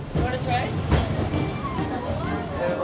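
Rumbling interior of a moving Hong Kong tram with steady mechanical noise and rattling, while people talk over it.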